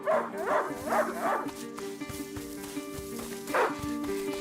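A dog barks in the video game A Plague Tale: Innocence, three quick close barks followed by a pause and then one more, over a tonal game music bed.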